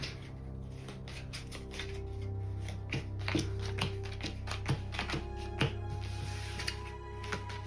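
A deck of playing cards shuffled during a tabletop card game, soft riffling and light flicks over a steady background hum, with a few sharper taps near the middle.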